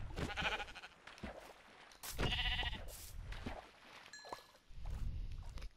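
Sheep bleating in Minecraft survival, several short wavering bleats close by alongside game sound effects, with a brief spoken word from a player partway through.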